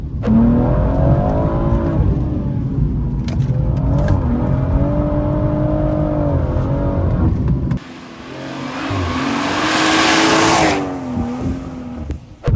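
A BMW M140 driven hard through corners, its engine droning and revving under load with rising and falling pitch, then a sharp shift into a louder, rougher roar and a hint of tire noise, heard from inside the car.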